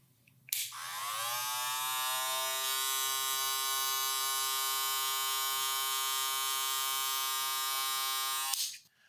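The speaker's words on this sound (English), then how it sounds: "The motor that they went with in this clipper, it vibrates a good amount compared to other brushless motors" A Wahl brushless hair clipper switches on with a click and runs as a steady, close, bright buzzing hum for about eight seconds before cutting off, heard alone with no talking.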